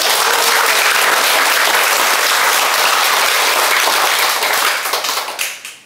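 A church congregation gives loud, dense applause during a lighthearted Catholic Mass homily. The clapping holds steady for several seconds, then thins out and fades near the end.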